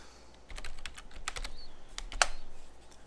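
Close, quiet keystrokes tap on a computer keyboard as a short word is entered, arriving in two small clusters of quick clicks with a brief pause between, and no one talking.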